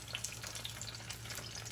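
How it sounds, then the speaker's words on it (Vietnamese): Banana fritter batter frying in oil over low heat, a faint, soft, steady sizzle with scattered tiny crackles and pops throughout. "để chiên ở cái lửa thấp để cho cái bột của nó giòn từ trong ra ngoài luôn"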